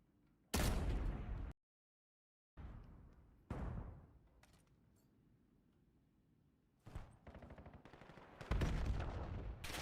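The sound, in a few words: gunfire in a Valorant esports match, video game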